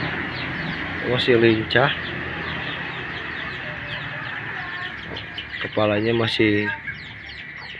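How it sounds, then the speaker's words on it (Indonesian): A Muscovy duck recovering from illness, its head still tilted, gives close, repeated clucking calls in two short bursts while someone talks nearby. "ini dia entok yang kemarin sakit dan sudah sembuh"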